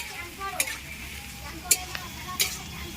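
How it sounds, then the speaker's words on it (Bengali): Onions frying in a pan with a steady low sizzle, broken by a few sharp scrapes and clinks of a spatula stirring them, heard close and alone without talk. "পেঁয়াজগুলো আগে ভালো করে আমরা ভাজা করে নিই"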